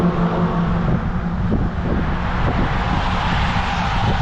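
A Toyota Corolla car passing by outside, a steady broadband engine and road rumble holding at a fairly loud level throughout, without any clear swell or fade.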